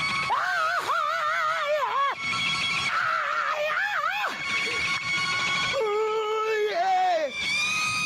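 An electric guitar solo, with a singer yelling along: loud, continuous bending, wailing lead lines with shifting pitch that dip and slide throughout, full and dense without pause.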